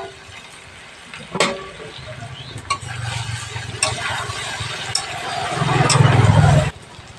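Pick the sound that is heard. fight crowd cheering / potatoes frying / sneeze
potatoes frying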